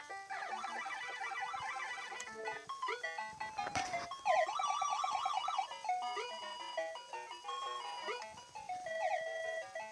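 Chiptune music and blippy sound effects from the Mappy video game on a 1991 Sega Game Gear, with bouncing melodic lines, quick chirps and a brief noisy burst near the middle, moderately loud and with no talk.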